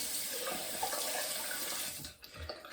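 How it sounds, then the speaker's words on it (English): Running tap water pours steadily over a straight razor blade being rinsed after a shave, a continuous splashing hiss that briefly cuts off near the end before resuming softly. "What I do after the shave is I rinse the blade"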